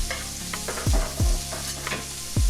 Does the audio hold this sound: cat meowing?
no